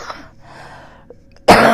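A person with a tickling throat gives a short, sharp cough right at the end, loud and close, after a few seconds of quiet breathy background.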